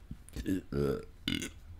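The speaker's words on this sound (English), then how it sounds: "oh gosh, the burps came back when I came back." A person lets out several burps in quick succession, low and voiced, fairly close and moderately loud, with a short pause before the last one.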